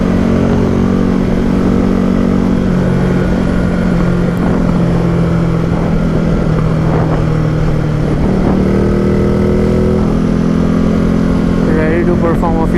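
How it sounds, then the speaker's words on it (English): A Ducati Multistrada 950 motorcycle cruises on a highway, its engine a loud, steady drone with a slowly shifting pitch under constant wind rush. It runs near and continuously throughout. "The ride back home was just as fun and felt super comfortable on the 950 Multistrada."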